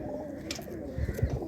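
A female pigeon of a prized show line coos in a few soft, low throaty bursts near the end, close by, with faint background murmur and no talk.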